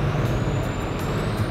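A bus pulls up nearby with a loud, steady air-brake hiss over a low engine rumble, heard up close with no talking.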